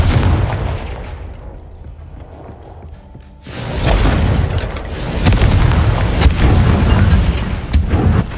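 Confringo spell explosions in Hogwarts Legacy: a dull boom fading out, then a louder burst of heavy explosive rumble with repeated blasts and crackle, loud and close.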